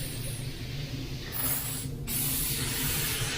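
A DeVilbiss GTi Pro spray gun laying a first coat of paint, a loud steady hiss of air and spray that stops briefly for a moment and then resumes, close and without talk.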